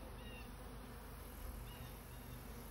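Honeybees from a queenless hive hum in a steady, continuous drone, with a thin high whine riding over a dense low buzz throughout.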